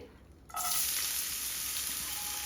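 Finely chopped onions dropped into hot oil in a pan, bursting into a loud, steady close sizzle after a quiet start, with no voices.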